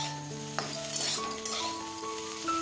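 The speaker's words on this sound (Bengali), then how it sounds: "চলো আলুটা ভেজে আমি এখান থেকে চলে যাব।" Potatoes sizzling in hot oil in a home kitchen while a utensil stirs and scrapes the pan, steady close frying hiss with occasional clinks of metal.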